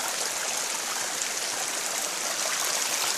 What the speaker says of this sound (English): This roar is water running in the creek